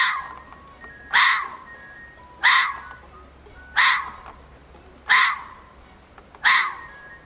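Six loud, harsh barking calls attributed to a fox ring out at a steady spacing of about one and a half seconds, close and alone against a quiet background.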